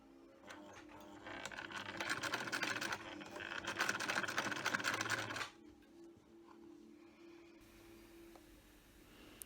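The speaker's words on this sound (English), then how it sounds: "so you just sew both sides together now" A sewing machine stitches both sides of fabric mask pieces together, a steady, fairly loud mechanical whir for about five seconds that then stops, leaving quiet room tone.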